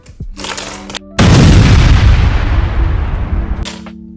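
An old, worn twisty puzzle cube, tensioned by a screw, bursts apart mid-disassembly. A sudden loud crack is followed by a few seconds of scattering, clattering pieces over a soft tonal background.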